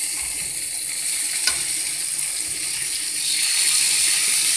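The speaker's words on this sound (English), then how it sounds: "Homemade sausages getting whipped up." Homemade sausages fry in a pan in a home kitchen with a steady, bright sizzle. A single sharp click sounds early on, and the crackle grows a little louder near the end.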